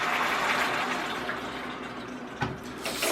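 Water poured into a large cooking pot, a steady hissing splash that eases off briefly before a couple of sharper splashes and clinks near the end, heard close in a kitchen.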